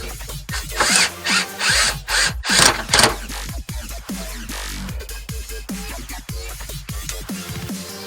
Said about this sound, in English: We just need to throw some screws in there.